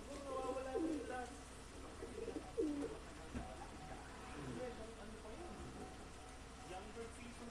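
Racing pigeons coo in a low, throaty rhythm, with several distinct coos in the first few seconds over an outdoor background murmur. People talk nearby during the clip.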